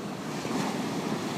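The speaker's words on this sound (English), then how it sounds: "Waves are coming over," Big ocean breakers wash over a flooded harbor road during a blizzard, a dense, continuous roar of surf mixed with strong wind buffeting the microphone.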